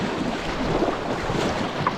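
River water rushes and churns over uneven boulders in a steady, close wash of broadband noise, with faint wind mixed in and no speech.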